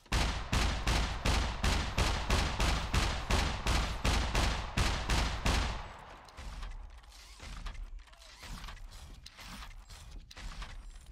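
Rapid automatic gunfire in the survival game Scum, a steady burst of loud, evenly spaced shots for several seconds that then cuts off, leaving scattered fainter distant pops and shuffling.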